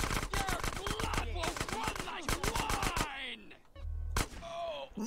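Rapid bursts of gunfire in the video game Grand Theft Auto: San Andreas, loud and close with dense repeated shots, brief pauses and a final sharp blast, with someone talking over the action.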